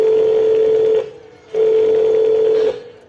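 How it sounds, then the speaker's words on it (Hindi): Two steady telephone tones, each lasting about a second, separated by a short pause; clear and close with no talking. "मैं अभी अपने बेटे को फोन करती हूँ"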